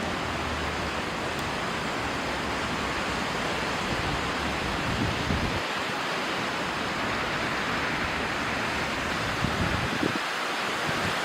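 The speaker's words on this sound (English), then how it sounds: "It's getting windy." Steady, roaring wind buffets the microphone throughout, a broad continuous rush with gusty low rumbles, no voices.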